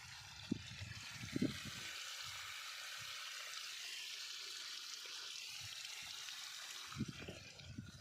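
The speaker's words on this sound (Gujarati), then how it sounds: "આ જુઓ કેટલું પાણી જાય આ બધે" Water flows across a wheat field on a farm, a steady, faint, rushing hiss that runs throughout, with a few soft low thumps near the start and end.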